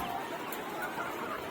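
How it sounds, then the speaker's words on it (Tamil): Hens cluck in a busy, noisy setting near a lorry carrying soya poultry feed from Hyderabad to Namakkal, their calls soft and continuous under a steady broadband din. "கோழி கத்தாத சும்மா இரு."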